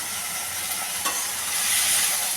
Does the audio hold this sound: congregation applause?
no